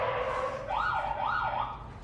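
A police car siren wails with rising and falling sweeps as officers arrive at a hit-and-run accident scene, sounding steady and moderately loud without talk.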